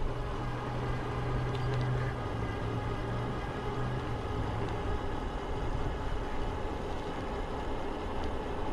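A Macwheel LNE-16 e-bike riding on throttle only gives a steady electric motor whine under constant road and wind rumble, moderately loud and unbroken throughout.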